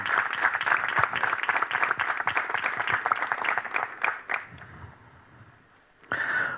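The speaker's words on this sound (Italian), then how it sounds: "Un applauso." A crowd applauds with dense, continuous clapping that fades out, then a burst of clapping resumes briefly at the end.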